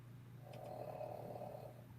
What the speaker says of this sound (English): You hear the snoring?